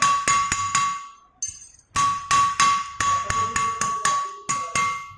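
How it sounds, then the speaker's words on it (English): Sharp metallic hammer strikes ring out close by in an irregular series as a forged metal O-ring is flattened level, each hit followed by a brief ringing tone, with a short pause midway. "just take it, hammer it, make it level, remove the bend."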